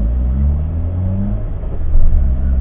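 A Citroën AX with a head gasket fault and its bonnet removed, driven in under its own power: a steady low engine rumble that swells briefly near the end, close and loud, with no voices.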